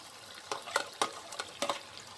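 An egg going into a hot pan with spicy chicken kosha, several soft sizzling bursts and stirring scrapes at close range, fairly quiet with no talking.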